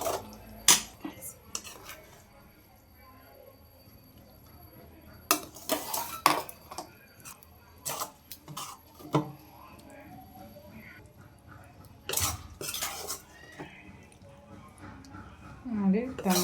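Tomato chutney being spooned from a pot into a bowl in a home kitchen: repeated sharp clinks of a metal spoon against cookware, scattered and fairly close, with soft scraping between them and some talk.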